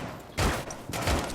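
Automatic gunfire from hip firing in Rainbow Six Siege, heard as two loud bursts of rapid shots separated by a short gap, with no talking.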